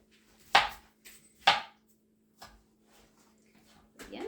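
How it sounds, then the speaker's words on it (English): A sharp knife cuts through a partly cooked sweet potato with a few crisp, close chops against a board, two strong strokes then lighter ones, spaced apart in quiet surroundings. "you're going to want a nice sharp knife to do this because the center part isn't cooked through yet"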